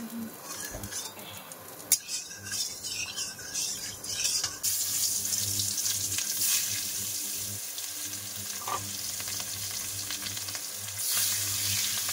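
Steady sizzling of food frying in oil in a kadai, with a brief clatter early on and a running-water hiss layered through most of it.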